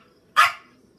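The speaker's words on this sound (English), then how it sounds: "So I do apologize for that about the dog barking." A pet dog gives one sharp, close bark indoors during a home gaming session, rising abruptly from a quiet background and fading fast.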